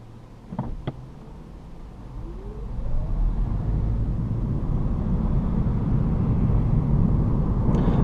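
Low engine and road rumble from a 2016 Lexus IS 300h hybrid car moving through town, a faint tone rising early on and the steady noise growing louder midway, with a couple of short clicks near the start.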